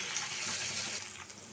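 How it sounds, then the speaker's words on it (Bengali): Puti fish fry in a pan, giving a steady, faint hiss of bubbling oil with no clear breaks. "মাছটা বাজা হোক"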